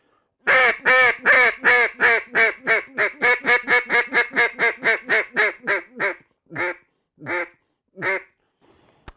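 Raspy quacks from a Camo Max duck call blown in a rapid, loud series that gradually slows and spaces out into a few separate quacks at the end.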